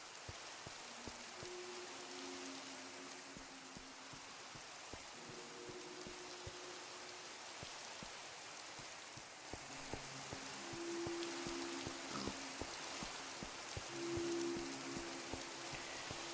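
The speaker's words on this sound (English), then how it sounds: "You know what? It's always bloody raining." Rain pours in Minecraft as a continuous quiet hiss of drops, faint and steady, with soft low tones drifting underneath and no talking.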